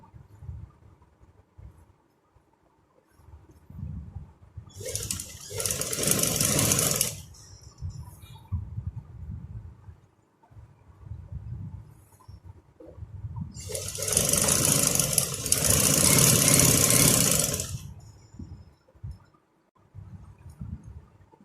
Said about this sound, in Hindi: अब आपने इस बुकरम के साथ ये वाला टर्न बनाना है और बिल्कुल यहाँ किनारे के साथ साथ सिलाई लगानी है